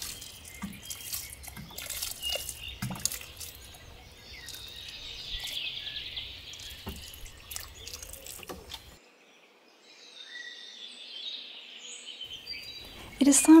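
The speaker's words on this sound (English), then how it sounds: "I will give these a good watering and I will stake them once they have grown bigger." Water poured over plants in a vegetable garden, a trickling, splashing flow outdoors with birds calling in the background, dropping away briefly before resuming.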